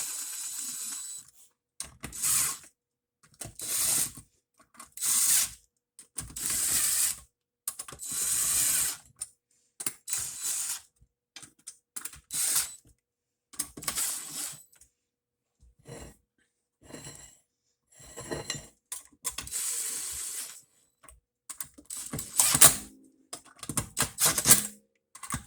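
A hand ratchet tightens 10 mm clutch bolts on a 1999 Yamaha V-Max 500 SX snowmobile, sounding as bursts of rapid close clicking separated by short pauses, with no talking.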